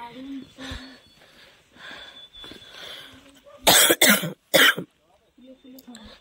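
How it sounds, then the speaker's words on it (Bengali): Several sharp, loud coughs burst out in a quick cluster, set between stretches of nearby conversation, at Nathu La on the India-China border. "কাশি উঠে গেল আসতে গিয়ে।"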